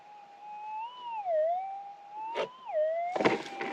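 A Minelab GPX 6000 metal detector sounds a target signal while nugget hunting in dry dirt, a steady warbling tone that rises and dips in pitch, broken near the end by brief scraping noises.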